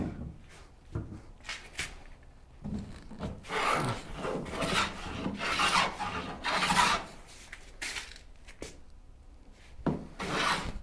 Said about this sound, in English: As easy as this stuff is planing